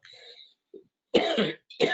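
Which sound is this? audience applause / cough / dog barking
cough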